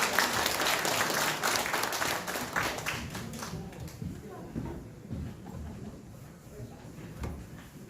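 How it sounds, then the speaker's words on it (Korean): Party members at a Korean rally applaud to welcome a speaker: loud, dense clapping that tapers off over several seconds into scattered claps and room noise. "당원 동지 여러분의 큰 박수로 임문영 실장님을"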